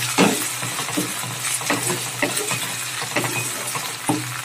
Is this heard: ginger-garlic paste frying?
yes